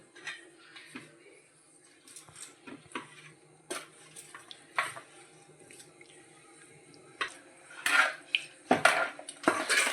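Chicken pickle being mixed with garlic in a bowl, giving scattered clinks and scrapes of utensil against the dish, with quiet gaps and a few louder bursts of stirring and handling toward the end.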